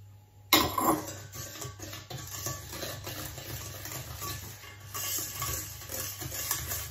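Sugar and almond powder are stirred into melted chocolate in a bowl, a steady scraping and rustling of a utensil against the bowl, close and continuous after a sharp first contact.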